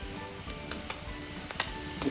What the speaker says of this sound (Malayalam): പനീർ നമ്മൾ ഓൾമോസ്റ്റ് ഫ്രൈ ആയിട്ടുണ്ട്.